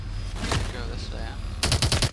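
Rapid automatic gunfire in the futuristic shooter Call of Duty: Advanced Warfare, a single shot early on and then a loud close burst of repeated shots near the end, with game voices and effects beneath.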